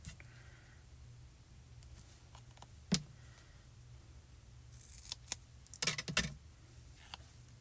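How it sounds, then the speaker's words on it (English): Scissors snip through a piece of foam tape at a craft table, a few sharp, crisp cuts scattered through a quiet room, the last ones clustered close together, with no talk. "I'm just cutting a piece of foam tape"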